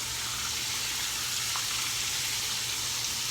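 Cubed deer steak frying in a pan gives a steady, close, even sizzle with a constant crackling hiss throughout and no talking.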